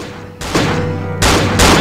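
Gunfire in the horror video game Cry of Fear, loud close bursts of shots cutting in abruptly with a few seconds of rumbling aftermath between them, no voices.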